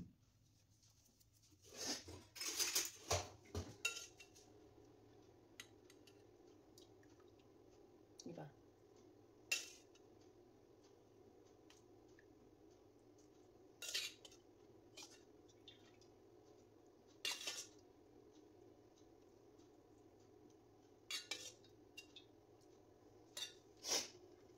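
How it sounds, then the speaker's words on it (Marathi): A spoon stirs hot boiled spinach in a bowl, giving scattered soft clinks, taps and wet squishes with long quiet gaps, all faint and close against a low room hum. "खूप गरम आहे म्हणून हे मी चमच्याने मिक्स करत आहे."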